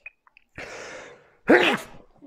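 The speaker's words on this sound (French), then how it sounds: "ce souffle divin m'a fait éternuer" A single sharp sneeze bursts out after a brief quiet intake of breath, loud and close, followed by a short fading tail.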